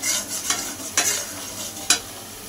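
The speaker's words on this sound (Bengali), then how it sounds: "এবার মশলাটা কিছুক্ষণ কষিয়ে নেব।" Spice paste of turmeric, coriander, cumin and Kashmiri chilli powder sautéing in a pan, with a steady soft sizzle and three sharp spoon scrapes spaced about half a second to a second apart.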